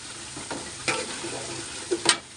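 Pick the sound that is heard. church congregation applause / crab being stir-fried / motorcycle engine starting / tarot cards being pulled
crab being stir-fried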